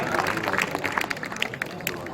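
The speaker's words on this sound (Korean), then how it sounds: "자, 다시 한번 우리 임태호 운영위원장님한테 뜨거운 박수 부탁드리겠습니다." Scattered applause from an outdoor crowd at the opening ceremony of a foot volleyball tournament in Ulsan, with irregular claps and background chatter, moderately distant.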